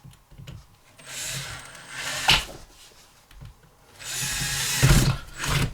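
A power drill bores out the rivets on an RV window torque operator in two grinding bursts with a scraping pause between them. It is close and fairly loud, with no speech.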